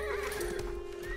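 A horse whinnies loudly in the strategy game Age of Empires 4, a single drawn-out neigh over a steady game soundscape with faint hoof clatter.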